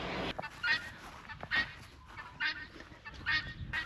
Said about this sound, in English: It's our guinea making guinea noises.